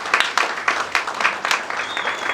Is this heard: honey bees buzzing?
no